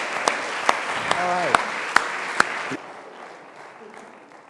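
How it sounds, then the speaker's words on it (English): An audience at a university athletics talk applauds steadily for about three seconds, with a few sharp claps standing out above the crowd, then fading as a voice speaks briefly. "Give her a round of applause."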